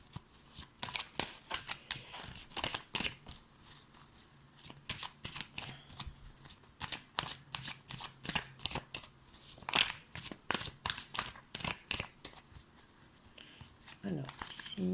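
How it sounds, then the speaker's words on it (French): Tarot cards being shuffled and drawn by hand, a steady run of close, soft papery flicks and riffles with brief slaps as cards are laid down, continuing throughout with no voice. "on va retirer encore deux cartes et on verra un petit peu ici"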